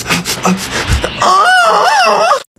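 Short bursts of voice come first, then a person imitates Gohan's scream from Dragon Ball with a wavering, warbling high-pitched yell lasting just over a second before it stops abruptly.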